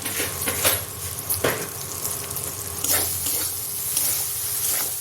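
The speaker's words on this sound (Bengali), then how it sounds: "এখানে মশলা ভাজা হয়ে গেছে।" Spices fry in a pan on a gas flame, with a steady close sizzle and intermittent scraping and clinks as a utensil stirs against the pan, and no voices.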